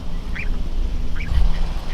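A duck in a backyard duck pen gives two short, loud nasal quacks about a second apart, close by, over a rumbling outdoor background.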